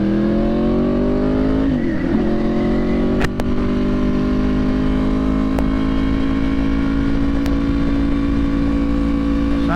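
A Yamaha R1 sport bike on a city street gives off a loud, close engine drone that climbs slightly in pitch early on and then holds a steady high-revving tone, with a few sharp clicks.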